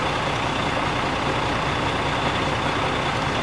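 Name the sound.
heavy duty truck engine idling at 600 RPM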